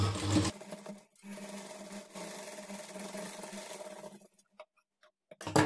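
A sewing machine stitches darts on a child's lehenga top, a steady mechanical whirr running for about three seconds after a brief louder burst, then stopping into near silence with a few faint clicks.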